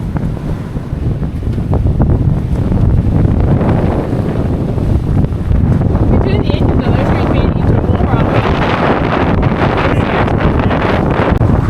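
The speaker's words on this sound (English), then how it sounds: "this is one nasty 28 knot Meltemi at the moment" Strong 28-knot Meltemi wind blows across a sailboat at sea off Turkey, a loud, steady roar of gusts buffeting the microphone over the rush of waves throughout.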